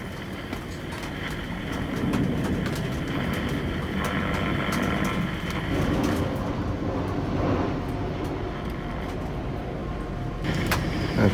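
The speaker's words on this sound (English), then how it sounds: "we've got trains and aeroplanes doing all sorts of things here" Trains and aeroplanes pass outside while rain falls on the roof, making a steady, broad rumble that swells and fades over several seconds. The sound is continuous and mid-distance, with no voices.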